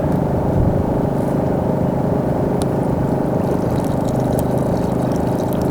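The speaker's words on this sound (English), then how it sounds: "Need to add water to it too." Water is poured into a simmering stew pot at a campsite, making a continuous, loud rushing pour that lasts the whole stretch without a break.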